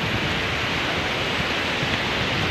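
Seven Falls at Lake Sebu, South Cotabato, heard as a continuous broadband roar of falling water, steady and loud with no breaks.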